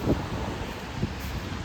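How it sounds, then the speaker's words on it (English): Cold north wind blowing hard against the microphone on a city walk, a steady loud rumbling roar with brief gusty bursts throughout. "That old north wind is not letting up."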